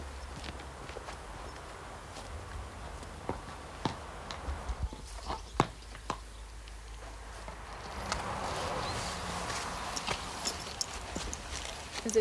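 Horses ridden by mounted riders from Gyergyó clip-clop at a walk on a hard surface, scattered hoof strikes fairly close over a low background hum and murmur.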